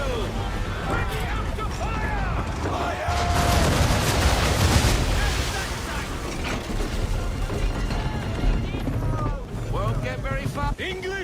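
Swivel guns firing at an English frigate in an Assassin's Creed 3 naval battle, bursts of gunfire over wind, creaking timbers and sea noise, with shouting crew voices throughout.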